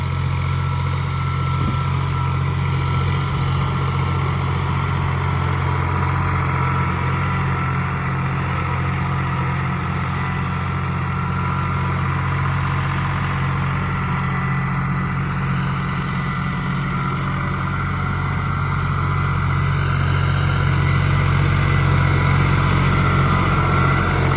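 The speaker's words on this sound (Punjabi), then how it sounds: "ਚੱਲਦਾ ਹੀ ਬਹੁਤ ਵਧੀਆ ਟਰੈਕਟਰ ਦੀ ਇਹਦੀ ਆਵਾਜ਼ ਵੀ ਬਹੁਤ ਪਿਆਰੀ ਹੈ" A tractor engine runs steadily in a farm field during okra sowing, a loud, continuous low throbbing drone that holds even throughout with a slight swell toward the end.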